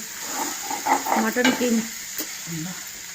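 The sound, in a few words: stirring mutton keema curry in a pan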